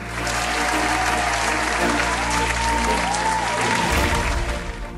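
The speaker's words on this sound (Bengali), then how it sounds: "সাফ ফুটবল জয়ী বাংলাদেশ নারী ফুটবল দলের উদ্দেশ্যে আমরা আরেকটা করতালি দেই জোরে" Audience applause at a sports awards ceremony honouring the SAF-winning Bangladesh women's football team, a dense, loud, sustained clapping from a large crowd in a hall, easing slightly near the end.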